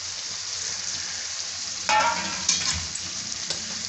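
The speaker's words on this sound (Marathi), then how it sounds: "5 ते 6 मिनटं मी कमी गॅसवर कलेजी पेटा शिजवून घेतलेला आहे" Goat liver and intestine (kaleji peta) fry in a pan over low gas, giving a steady, close sizzle broken by a few brief clatters of stirring.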